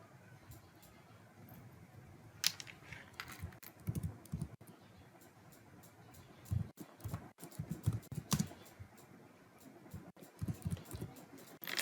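Someone types on a computer keyboard, a quiet, irregular run of sharp key clicks with short bursts and pauses, heard close and alone.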